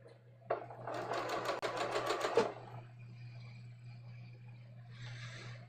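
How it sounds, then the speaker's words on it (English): A sewing machine stitches silk onto cashmere for trousers in a quick burst of rapid, even needle clatter lasting under two seconds, then a quiet hum remains before a brief softer whir near the end. "I'm just going to stitch the silk onto the cashmere."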